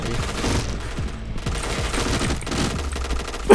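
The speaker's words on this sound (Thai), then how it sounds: "อ่ะเราก็ไปยิงเพื่อนแบบนี้" Rapid gunfire in the Point Blank online shooter as a player fires on a teammate, a continuous dense stream of shots with game background noise, a sharp click or impact near the end.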